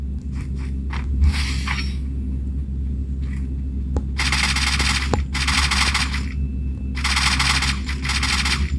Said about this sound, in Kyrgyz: Арка жакта да адамдар атышып атат.